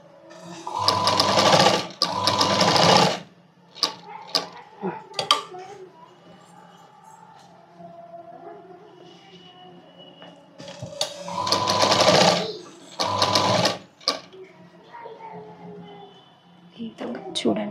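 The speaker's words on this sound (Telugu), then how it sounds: "ఈ విధంగా స్టిచ్ చేసుకోవాలి." A sewing machine stitches a padded blouse in two pairs of steady whirring runs, close and loud, with quieter handling and someone talking in the pauses between.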